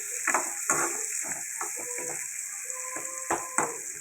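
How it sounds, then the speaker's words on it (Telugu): Onions frying in hot oil left over from frying garelu for a mutton ball curry, a steady close sizzle with intermittent clinks and scraping stirs against the pan. "ఉల్లిపాయలు వేగాలి"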